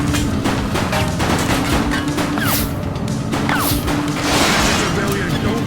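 Police gunfire in the video game The Precinct, rapid cracks and clattering shots in dense bursts over a busy backdrop of noise, with voices shouting intermittently.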